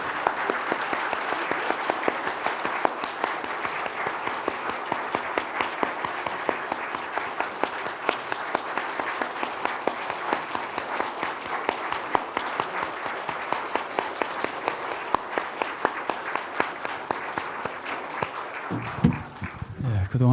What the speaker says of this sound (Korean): 우리 시간 하나님께 감사와 영광의 박수를 한번 돌리겠습니다.